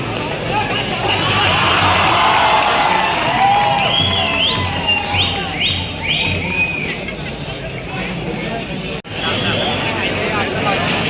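A festival crowd cheers and shouts for a girl climbing a human pyramid, loud continuous babble with whistles and excited voices rising over it, then quieting slightly toward the end.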